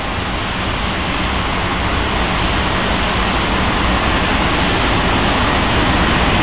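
An Alitalia airliner takes off from runway 07 at Milan in a virtual plane-spotting simulator, producing a loud, steady, broadband jet roar that holds constant throughout with no voices.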